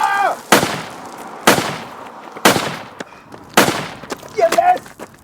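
Gunfire sound effects in an audio drama set in a wartime battle: four loud, sharp shots spaced about a second apart, each with a long rumbling tail, and a brief shout at the start and near the end.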